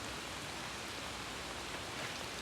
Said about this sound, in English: here comes the big drops again